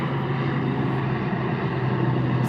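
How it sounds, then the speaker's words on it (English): An airplane passing overhead above a garden, heard as a steady, fairly loud droning roar that holds evenly throughout. "it's an airplane."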